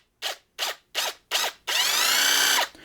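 Ryobi ONE+ HP Gen 2 impact driver in A mode, running in reverse on lock screws: four short whirring bursts in an even countdown rhythm, then one longer continuous spin, loud and close, with no voices.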